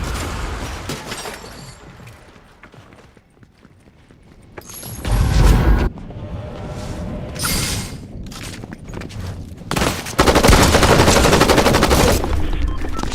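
Gunfire in Fortnite comes in loud bursts of shots and rattling automatic fire. Quieter stretches of game noise and mechanical clicks fall between the bursts, and no one speaks.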